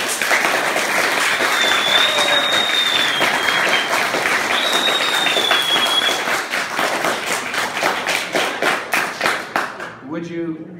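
Loud town hall audience applause at a congressman's coffee hour, dense steady clapping with voices and a few whistles mixed in, thinning into scattered claps near the end.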